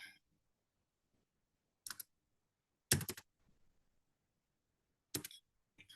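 Keys tapped on a laptop keyboard, a few isolated clicks and short bursts separated by silence, close and fairly quiet.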